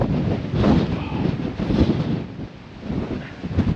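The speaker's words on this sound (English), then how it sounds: "the wind is blowing a hoolie" Strong wind roars across a Welsh mountainside, buffeting the microphone with continuous, gusting rumble that swells and eases without a break.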